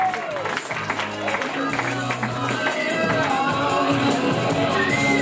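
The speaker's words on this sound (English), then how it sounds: "give a round of applause for Miss Mona Lisa Harrison." An audience claps and cheers at moderate volume at a stand-up comedy show, the applause mixed with crowd voices and a few whoops.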